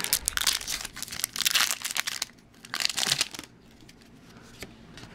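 Foil wrappers of Pokemon XY Phantom Forces booster packs being torn open and crinkled up close, in bursts of sharp crackling and rustling that fade into quieter handling toward the end.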